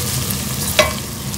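Prawn heads and bacon fry in oil with a steady low sizzle, broken near the middle by one brief louder clink or stir.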